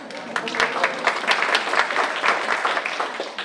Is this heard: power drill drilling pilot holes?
no